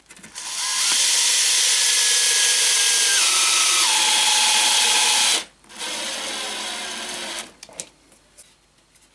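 A power drill drives a confirmat screw into wood boards, a loud, continuous whine that drops in pitch in steps as the screw bites. It stops abruptly, then runs again briefly before tapering into a few faint clicks.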